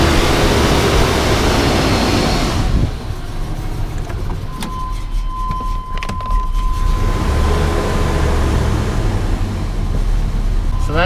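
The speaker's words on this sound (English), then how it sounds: "Obviously doesn't sound like it's running quite right just yet. The idle keeps flaring for some reason." A 1998 GMC Sierra engine idling roughly with a flaring idle, a loud close rumble that dips and surges, with a faint whine and some clicks in the middle.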